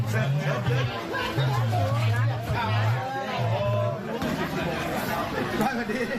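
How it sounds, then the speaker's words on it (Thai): A crowd gathered in a temple hall produces loud overlapping voices, a dense babble of chatter and calls rising and falling throughout. "มีคนเนี่ยพยายามจะตะโกนโห่ร้อง"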